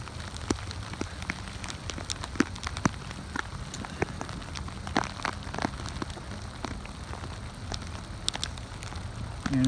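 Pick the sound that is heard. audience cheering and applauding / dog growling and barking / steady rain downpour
steady rain downpour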